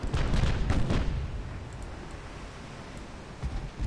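Naval guns firing in the battleship game Ultimate Admiral: Dreadnoughts, a burst of heavy booming rumble at the start that fades into a low sustained roar, with a further softer thump near the end.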